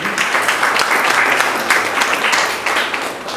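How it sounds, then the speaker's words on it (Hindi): Audience applause at a Hindi literary book launch ceremony, a dense, sustained wash of many hands clapping that stays loud throughout and fades slightly near the end. "आप लोगों के लिए भी एक बार पुनः तालियां बजा दीजिए।"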